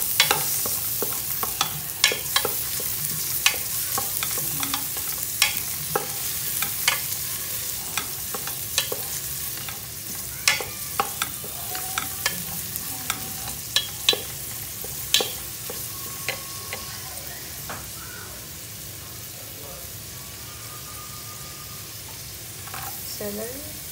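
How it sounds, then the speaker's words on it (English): Garlic sautéing in butter in a pot for a salmon chowder: a low, continuous sizzle runs throughout, punctuated by many sharp clicks and taps of a utensil stirring against the pan, with faint talking at times. "with butter, saute in the butter, put the garlic"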